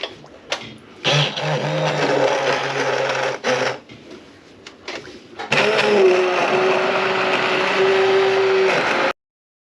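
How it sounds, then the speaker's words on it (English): An immersion blender processing tomatoes for sauce whirs steadily in bursts, cutting out briefly then running again with a higher whine near the end, no talking. "I can take the immersion blender"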